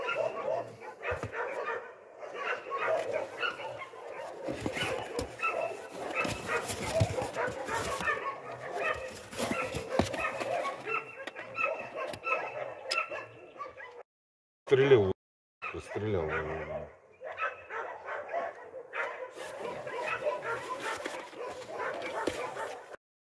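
Seven abandoned puppies, dumped in a box in a forest, whimper and yip almost continuously, with a brief pause in the middle. Several small voices overlap close by.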